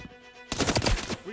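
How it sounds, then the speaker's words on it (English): A rapid burst of automatic gunfire in the video game Transience, fired through a wall, rattles for under a second, loud and harsh. "They got shooting through the wall or what?"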